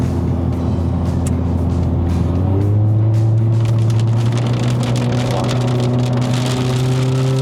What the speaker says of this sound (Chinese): 哇，很大雨，